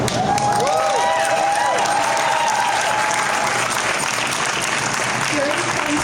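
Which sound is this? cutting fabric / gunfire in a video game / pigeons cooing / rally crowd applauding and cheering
rally crowd applauding and cheering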